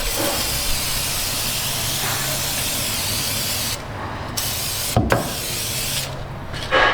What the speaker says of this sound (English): And we'll fluid film her up, put it on.